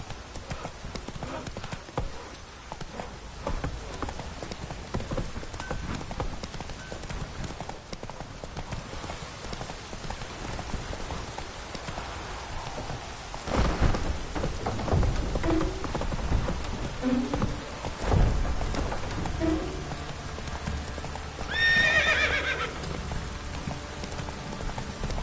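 Horse hooves clip-clop steadily through rain in the Witcher 3 video game, with rain pattering throughout, a rumble of thunder midway and a brief high whinny near the end.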